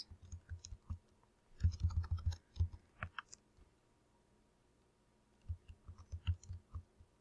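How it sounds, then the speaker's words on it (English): Typing on a computer keyboard while entering text into a spreadsheet cell, with quick bursts of close, crisp key clicks separated by short pauses, no talking. "And you're going to type in there Joseph's"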